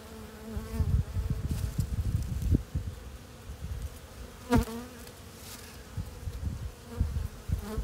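Steady buzzing of many bees close by, a dense droning hum with a few louder passes as individual insects fly near.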